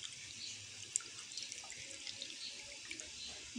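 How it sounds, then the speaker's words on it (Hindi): Plain water is poured into a glass for falsa sharbat, giving a steady splashing trickle with a few small drips, close and fairly quiet, with no talking. "अब सादा पानी में इसके अंदर ऐड कर दूँगी।"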